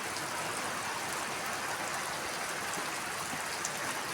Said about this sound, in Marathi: पावसाची हलकी सर